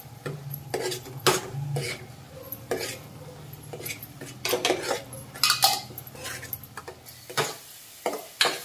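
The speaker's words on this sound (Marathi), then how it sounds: "आता आपण हा घरचा होममेड मसाला घालणार आहोत। तर याच्यात मी 5-7 चमचे घेतलेले" A homemade masala spice paste mixed in a pan with a spoon for a spicy prawn curry, producing irregular metallic scrapes and clinks against the pan, close and fairly loud, without speech.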